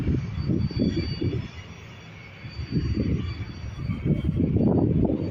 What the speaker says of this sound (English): Here we go, FR59555, this Ryanair 737.